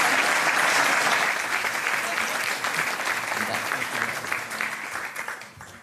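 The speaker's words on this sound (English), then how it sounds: "Big round of applause for an amazing job done." An awards ceremony audience applauds steadily, a dense wash of clapping that starts strong and slowly fades toward the end, with no voices over it.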